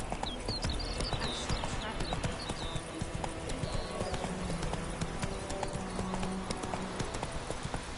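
Horse hooves gallop in a fast, steady clip-clop rhythm in The Witcher 3 video game, continuing throughout under a voice and game sounds.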